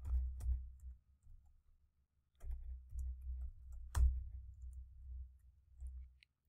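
Code is typed on a computer keyboard in quick bursts of close, quiet clicks separated by short pauses, with no talking.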